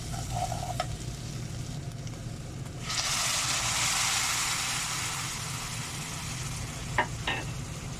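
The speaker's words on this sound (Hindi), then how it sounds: "अभी इसमें हम ऐड करेंगे 1 कप पानी का" A cup of water is poured into a simmering chicken and chickpea curry, a sudden rushing hiss swelling as it hits the hot pan and settling into a steady sizzle, with a couple of soft utensil clinks afterward.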